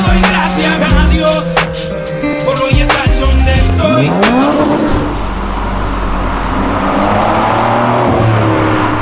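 Sports cars, among them Lamborghinis, BMWs and Ferraris, downshift on Avenida Europa with loud engine revs and a rising, sweeping exhaust note, then a steady roaring drone as they pull away up close.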